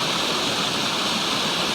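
Water flows over rocks in a steady, continuous rushing wash like a small stream or cascade, loud and close with no other sounds.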